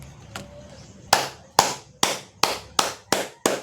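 Slow, sparse clapping in honour of the Speaker of the House gives about seven sharp, evenly spaced claps at roughly half-second intervals, close and distinct, after a quieter opening.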